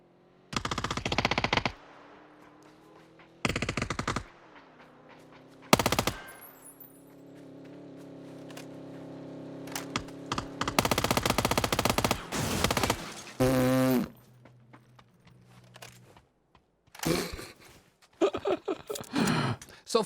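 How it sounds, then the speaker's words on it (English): Bursts of JS-9 submachine gun fire in the shooter game PUBG, several separate loud rattling volleys of automatic shots with short pauses between, heard alone without talk. "there is a brand new SMG available in PUBG, the JS-9"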